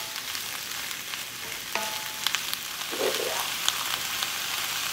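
Vegetables fry in butter and a little sesame oil in a pan, giving a soft continuous sizzle with occasional ticks and clinks as they are stirred.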